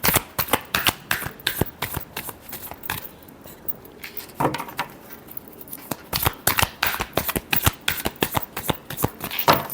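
Tarot cards are riffled and shuffled by hand in quick, crisp flurries of close snapping card noise, with a short softer lull in the middle.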